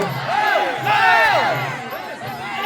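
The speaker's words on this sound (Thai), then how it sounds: "จ้าหูจะแตกแล้วเสียงเชียร์ตื่นไปหมดเลย" A crowd at a Thai boxing match cheers loudly in a continuous roar, with shouting voices surging and swelling over a brief stretch.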